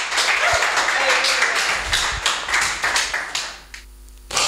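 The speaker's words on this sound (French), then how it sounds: "Applaudissons pour la gloire de Dieu." A congregation claps in a church service, with dense, loud applause that thins out toward the end as a voice starts speaking.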